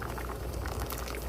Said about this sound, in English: I got this pasta here that's been boiling